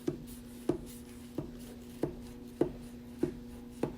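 A knife cuts through a loaf of pumpkin bread in soft, evenly spaced thuds about every half second as it meets the board, quiet and close over a faint background hum.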